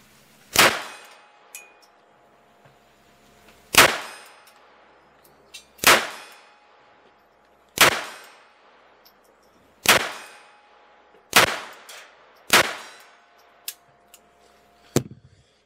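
Shots from a Beretta Bobcat Model 21A pistol ring out in sharp, evenly spaced cracks, each followed by a metallic clang of steel targets at 50 yards, about eight in all, with a few fainter pings.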